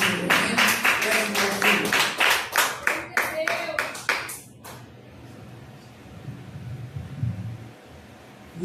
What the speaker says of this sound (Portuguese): você recebe pela grande oportunidade e as palmas do Senhor.